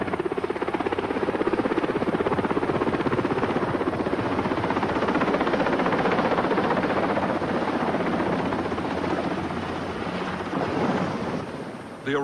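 Wessex military helicopter flying in and setting down in a farmer's field, its steady loud rotor and turbine roar filling the whole stretch with little change before easing slightly at the very end.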